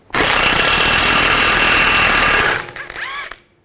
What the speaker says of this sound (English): Use an 18mm socket, remove the nut for the tie rod end